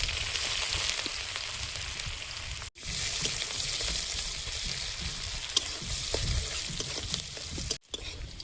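Dry red chilies and chopped onion sizzle loudly in hot oil, a dense continuous crackling hiss close by, with two brief cuts and no voices.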